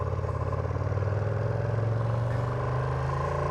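2024 Ducati Panigale V2 engine droning steadily under a rider on the move, a close, continuous mid-pitched hum with a fine pulsing texture and wind noise, no talking.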